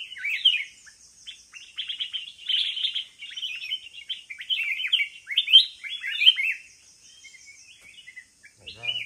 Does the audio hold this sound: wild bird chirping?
yes